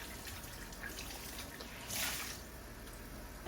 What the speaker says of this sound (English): Why do I always have the water running?